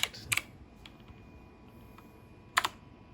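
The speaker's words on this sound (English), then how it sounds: "I have to type with my right hand" Keys clatter on a computer keyboard in a few sparse bursts of clicks, close by, with quiet gaps and a faint steady hum between them.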